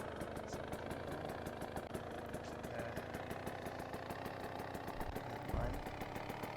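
Roblox go-kart engine idling in an offroad game, a steady mid-pitched rhythmic putter with a brief low thump near the end.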